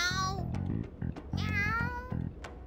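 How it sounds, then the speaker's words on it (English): A cat meows repeatedly in the Persona 5 Strikers video game, with a string of close, insistent, wavering meows of varied pitch, partly overlapping a voice and a low buzzing tone. "That sure is a noisy cat."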